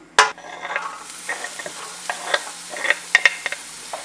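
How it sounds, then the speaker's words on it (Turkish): Butter sizzles softly as it melts in a pan with a little olive oil, scattered crackles and pops, one sharp knock at the start, no talking. "Tavaya çok az zeytinyağı koydum arkadaşlar. Şöyle bir kaşık da tereyağı koyuyorum. Önce tereyağımızı eritelim."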